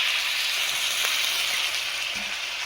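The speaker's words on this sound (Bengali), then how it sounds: "এবারে আমি জল দিয়ে দেবো, অল্প করে জল দিয়ে দেবো।" Water poured into a pan of cooked-down jackfruit curry sets off a loud, steady hissing sizzle, close and continuous throughout, with a couple of faint knocks underneath.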